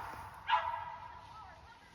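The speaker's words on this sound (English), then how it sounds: "sorry, that's my dog" A single short dog bark, fairly quiet and somewhat distant, sounds indoors against a faint room hum.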